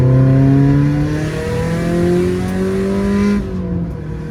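A 2015 Subaru WRX STI with a Stage 2+ external-wastegate tune pulls hard in third gear, its engine note rising steadily and loudly from inside the cabin before an abrupt drop as the throttle lifts.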